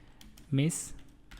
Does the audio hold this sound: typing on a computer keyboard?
yes